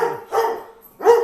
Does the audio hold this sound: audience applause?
no